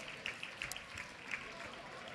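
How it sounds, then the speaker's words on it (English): Moderate audience applause at a keynote talk, scattered claps with a few sharper nearby hits over a diffuse crowd wash, fairly quiet and steady throughout. "Give him a round of applause."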